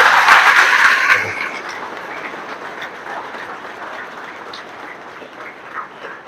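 Audience clapping in praise at a Tamil talk on competitive exam preparation, a dense broadband burst of applause for about a second, then fading into a low steady rumble.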